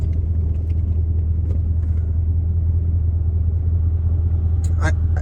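A BMW E34 540i driving around the block, heard from inside as a steady, deep engine rumble that stays constant throughout, with a faint brief chirp near the end.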